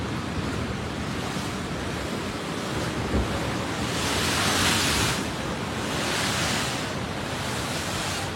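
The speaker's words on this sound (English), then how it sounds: "And now ocean's surged back in." Ocean surge at Pleasure Point in Santa Cruz after the Tonga volcano eruption, with loud continuous surf and wind roar that swells twice as waves rush back in toward high tide.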